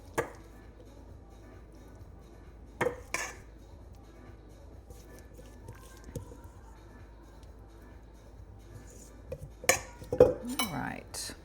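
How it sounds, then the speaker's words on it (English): A metal spoon spreading a mayonnaise, cheese and herb mixture over a garden tomato pie, with sparse taps and clinks against the dish and soft scraping between long quiet gaps. "we'll spread it gently with a metal spoon"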